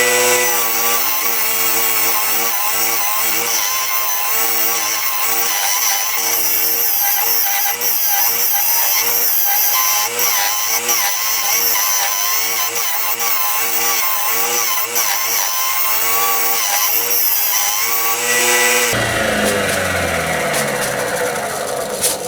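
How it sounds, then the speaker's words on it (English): Wood lathe spinning a segmented turning while a round nose scraper cuts, a loud continuous whirring hum with rhythmic pulsing scrape that stops abruptly near the end, leaving lighter workshop noise. "I'm just using a scraper, a round nose scraper, which is what I prefer."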